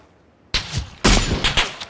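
Gunfire in a shooter video game: after a quiet start come two sudden loud bursts of rapid shots, each followed by a short, harsh tail, close and with no talk.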